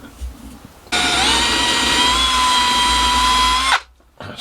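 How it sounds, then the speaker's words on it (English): A power drill starts abruptly and whines steadily at close range for about three seconds, boring a hole into the top of a log, then cuts off. "drill a hole in the top for the neck"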